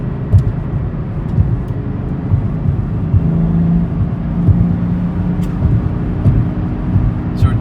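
Supercharged engine of a Camaro ZL1 1LE with a manual gearbox, cruising in third gear at about 63 mph: a steady loud low drone and rumble heard from inside the car, with faint cabin clicks and no talking.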